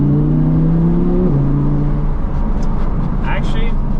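An Audi R8 V10 pulls hard in second gear, its loud engine drone steady inside the cabin with a brief shift in pitch early on, over road and wind noise, and a voice briefly heard.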